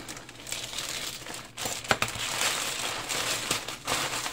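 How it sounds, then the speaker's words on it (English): A knife slicing open a mailed package, with continuous crinkling and rustling of packaging material close by, and a sharper snap partway through. "So let's get this knife out. Let's give a cut over here."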